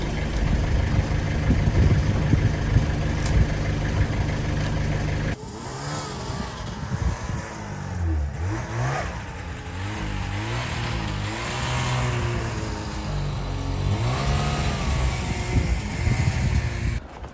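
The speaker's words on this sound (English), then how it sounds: "we're on to our next task" A tractor blowing snow after a blizzard, its engine running loud and steady throughout, dropping slightly in level partway through and then rising again, with some voices mixed in.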